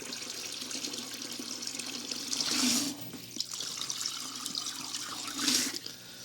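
Aquarium hose siphoning water and debris from the bottom of a planted tank, a trickling, gurgling flow that swells into two louder rushing surges, close by.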